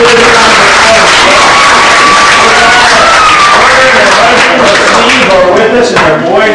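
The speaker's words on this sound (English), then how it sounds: "So let's go ahead and give Miss Liz a round of applause." Loud, close crowd applause at a church children's Christmas program honouring a singer, continuous clapping with some cheering and voices mixed throughout.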